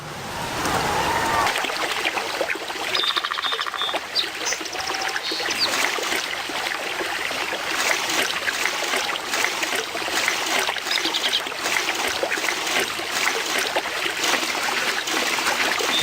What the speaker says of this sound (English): It's done. The clepsydra is full of water.